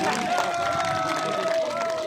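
A large crowd at a Bahujan Samaj Party rally in Rajasthan cheers and applauds, a dense continuous roar of clapping and voices with a sustained tone running through it.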